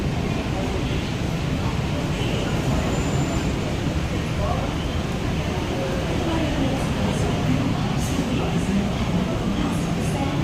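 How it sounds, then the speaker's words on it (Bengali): An underground metro train in Bangkok rumbles along in a steady, broadband roar, with faint voices mixed into the constant rolling noise. "এবার ডাউন মেট্রো ধরবো, মানে আন্ডারগ্রাউন্ড মেট্রো।"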